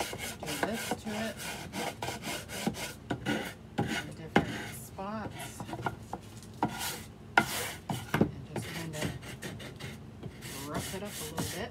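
A wooden sanding block with sandpaper rubs back and forth over a plain piece of wood, giving quick, dry, rasping scratches in an irregular rhythm, close up and moderately quiet.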